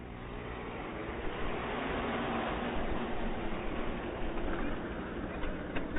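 Sprint cars roaring at Lernerville Speedway in Sarver, Pennsylvania, as the pack is led through turns 3 and 4 toward the green flag, a steady dense engine drone from the field that swells slightly and holds throughout, no talk.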